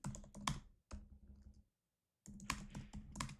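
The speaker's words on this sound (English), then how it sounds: "let me type it out." Computer keyboard typing during a live stream, heard as close, crisp bursts of key clicks. A brief pause separates two flurries of keystrokes, and no one speaks.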